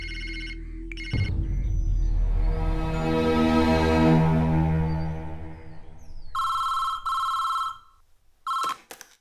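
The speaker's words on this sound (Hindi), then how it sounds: "अरविंद, तुम्हारे लिए फोन है।" A telephone rings in a Hindi-dubbed thriller film scene, several loud electronic ring bursts in quick succession after a low rumbling tone, with no talking.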